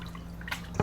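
Water drips from a squeezed handful of blanched baby spinach just rinsed in cold water, landing as a single short, close drip near the end of a quiet moment.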